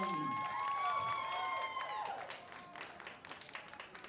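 At a stand-up comedy club, single members of the audience clap and whoop, with high cheering voices up front that fade into scattered, thinning claps.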